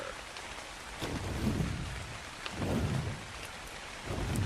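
Rain falls steadily in the Ark Survival Ascended video game, a hissing wash with low rumbling swells rising and fading, heard alone at a soft level.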